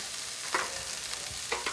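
Onions sizzle after being moved into a pan, a quiet, even hiss with a few soft scrapes and taps, and no talking.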